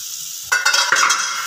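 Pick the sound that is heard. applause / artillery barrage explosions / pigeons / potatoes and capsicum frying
potatoes and capsicum frying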